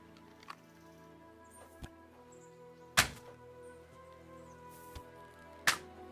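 Arrows striking a target in Kingdom Come Deliverance II archery: two sharp, solid thunks about three seconds apart stand out over quiet ambient game tones, with a few softer knocks between them.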